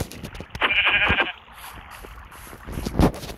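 Sheep bleats sounding in a game, one loud drawn-out bleat near the start followed by shorter, fainter calls and a sharp sound near the end, over a soft background.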